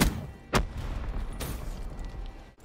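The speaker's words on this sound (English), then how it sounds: "A bow with exploding arrows?" Exploding arrows from a bow in the video game Call of Duty Black Ops III, heard as two sharp booming bursts about a second apart over a constant background rumble.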